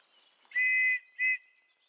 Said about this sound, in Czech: Je 7 hodin ráno a rád se dnes chystá písknout budíček.